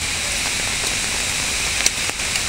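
Steady rain pours over Robona park, a dense, even hiss with a few sharper drop impacts, holding at a constant level throughout with no voices.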